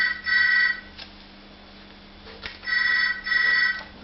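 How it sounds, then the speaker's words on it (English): A telephone rings in two double bursts, a bright electronic trill repeating with gaps between, over a steady low hum in a workshop where a drawer front is being fitted. "There's the bloody phone going."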